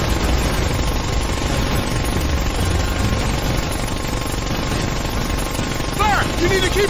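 Dense, loud automatic gunfire and explosions rage without pause in the video game Ghost Recon Advanced Warfighter 2, a thick battle wall with faint in-game voices and a few high electronic chirps near the end.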